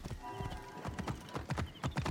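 A horse's hooves clip-clop in a steady, quick trot in the Assassin's Creed Origins video game, heard close and clear with no talking.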